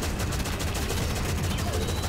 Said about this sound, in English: At least they're shooting the crusher.